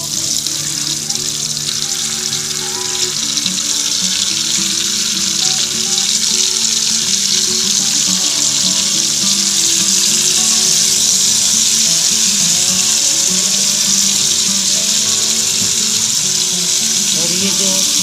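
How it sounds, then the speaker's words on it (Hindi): Steady, loud sizzling of stuffed lasoda frying in hot oil, continuous throughout with faint bubbling and no talking. "वो इस ऑयल में छोड़ेंगे।"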